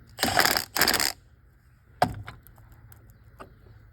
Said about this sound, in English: just this wicked loud clicking behind the dash